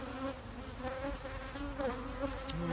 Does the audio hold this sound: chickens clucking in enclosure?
no